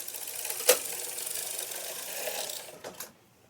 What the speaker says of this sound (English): we're going to move our carriage to the right